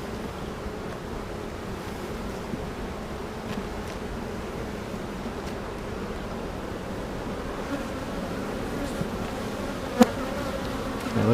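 Honey bees from a newly captured swarm buzz steadily inside a ten-frame hive in Maysville, North Carolina, a dense continuous hum heard up close with a sharp click near the end.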